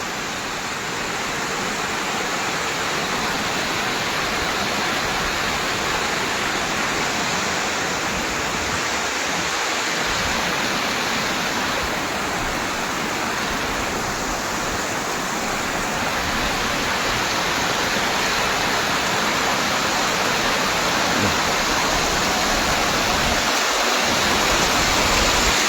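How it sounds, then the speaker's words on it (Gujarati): Water pours in a loud, continuous roar from Ramdhari lake as it overflows after rain. The steady rushing wash stays unbroken and close throughout, with no voices. "જોઈ છે આ કેટલું બધું પાણી આવે છે"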